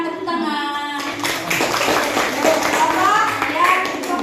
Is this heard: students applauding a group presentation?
yes